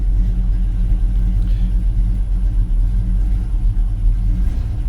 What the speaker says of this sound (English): Just thought I'd start it and let it run for a few minutes